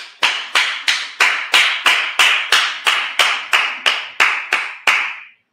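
A church congregation at a Sabbath service claps in unison, about fifteen sharp, evenly spaced claps in a steady rhythm that then stops.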